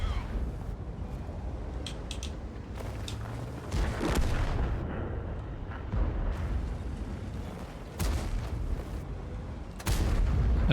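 Heavy tank cannons boom repeatedly in a tank battle video game, with several loud blasts standing out over a constant rumbling engine and battlefield din.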